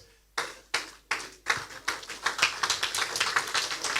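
Clapping at a leadership lecture builds from a few sharp, separate claps into a quicker, denser round of applause as more hands join, fairly close and loud.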